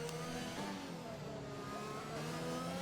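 Race car engines in the RSF1 league racing game at Monaco, a steady layered drone of revving engines with shifting pitches, continuous and fairly loud with no talk.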